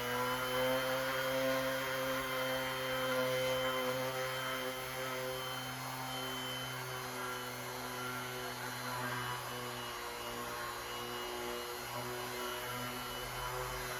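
A power sanding machine, set to a low speed, hums steadily with a droning motor whine as it sands the body of an electric guitar being built from scratch, continuous and even at moderate volume.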